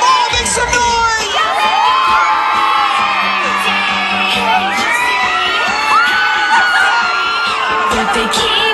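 A mall crowd of fans, many of them children, cheers, whoops and shouts loudly and steadily around a Debby Ryan Q&A appearance at the Northshore Mall, with voices rising and falling throughout.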